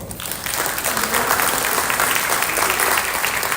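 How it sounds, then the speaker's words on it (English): Students at a high school orientation clap for classmates in a short burst of applause that swells quickly and stays full and steady, with a bit of crowd noise under it. "Let's give a round of applause."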